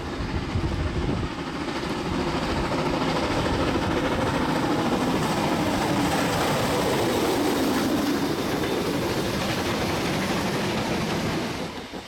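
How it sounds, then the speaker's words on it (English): Steam locomotive JA 1271 pulling its train away from a watering stop at Paikokoriki in heavy, wet, windy weather, a steady dense rumble of working engine and rolling stock sustained throughout with rain noise blended in. "After a watering stop at Paikokoriki, JA 1271 gets its train underway in heavy rain."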